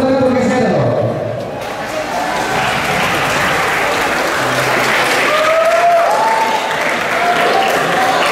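Audience clapping at a youth workshop on literacy, finance and the environment. A voice talks at the start, then dense applause swells and carries on steadily, with a few scattered calls over it.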